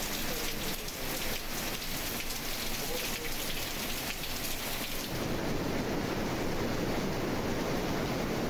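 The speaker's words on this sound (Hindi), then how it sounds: "लाहौर और गिरदोनवा में मूसलाधार बारिश" Heavy downpour in Lahore, a dense, continuous roar of rain hitting surfaces that grows thicker and brighter partway through, with no voices.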